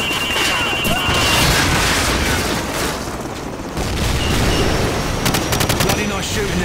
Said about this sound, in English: grab another Stinger and fire again